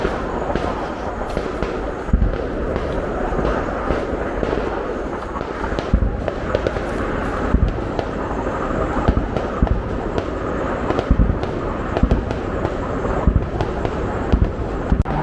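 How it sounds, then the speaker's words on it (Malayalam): Dense, continuous crackling and booming of fireworks going off in rapid succession, loud and sustained with no pause. "വെടിക്കെട്ട് വെള്ളയിൽ നിന്നും വെടിക്കെട്ട്"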